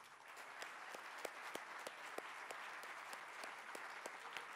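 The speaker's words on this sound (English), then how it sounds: "the dignitaries with a warm applause" Warm, sustained applause from a seated audience thanking dignitaries at the close of a technology summit, a faint, even wash of many hands with a few sharper claps standing out.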